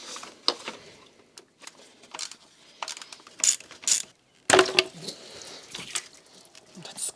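Hand tools working loose the hard-to-reach bolts on an Audi S5 intercooler pipe: scattered close metallic clicks and ratcheting bursts, with brief fumbling and scraping between them, no talk.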